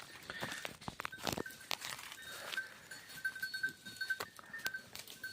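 Goats grazing on a quiet mountainside break into a run, with a quick, irregular patter of hooves and rustling close by, plus faint bleats and a thin ringing tone.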